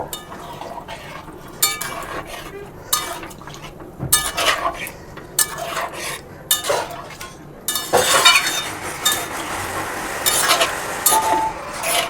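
Coconut milk is poured into a pan of jackfruit (echor) curry, with liquid splashing and scattered clinks and scrapes of a utensil against the pan, some louder bursts near the end.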